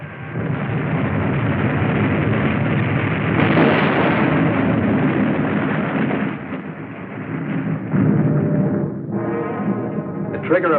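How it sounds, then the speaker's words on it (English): A submarine shaken by a terrific depth charge explosion, a sustained loud booming roar with rumbling turbulence filling the whole stretch, ending in a rattling, fluttering tail. "The trigger, of course, was subjected to another terrific depth charge."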